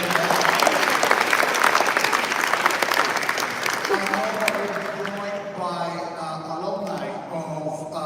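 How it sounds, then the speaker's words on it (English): Audience applause at the Moynihan Center inauguration, a dense, loud, sustained wash of clapping from a large crowd that tapers slightly toward the end as voices begin to rise beneath it. "You can give him a second round of applause."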